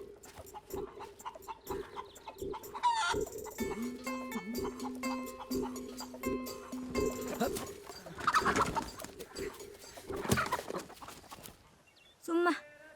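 A rooster crows and chickens cluck among pigeon-like cooing in a rural yard, the calls repeating at moderate distance under intermittent voices and movement.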